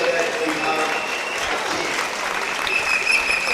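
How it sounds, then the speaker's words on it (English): Stadium crowd applauding during a relay race at a national stadium in Nairobi, with steady sustained clapping and a commentator talking over it. "And all the fans clapping"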